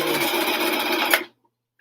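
A sewing machine runs steadily while stitching a seam on a helmet cover, a close, even mechanical whir that stops abruptly just past a second, leaving silence.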